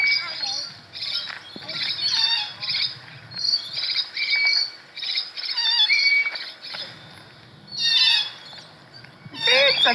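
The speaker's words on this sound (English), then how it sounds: "Birds are being very noisy." Noisy birds chirping and squawking outdoors, high repeated tweets and calls in bursts across the whole stretch, fairly close and loud with brief pauses between flurries.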